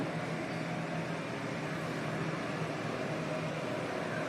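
Steady, even whoosh of a kitchen chimney exhaust hood running at a constant speed, a faint broadband hum and airflow noise with no change throughout.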